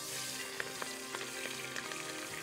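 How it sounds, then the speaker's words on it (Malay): Prawns seasoned with a little turmeric fry in hot oil with a steady, close broadband sizzle, punctuated by brief crackling pops and spits, no voices. "Kita goreng udang ni dulu aja."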